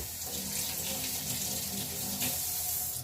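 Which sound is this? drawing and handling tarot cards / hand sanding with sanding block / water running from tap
water running from tap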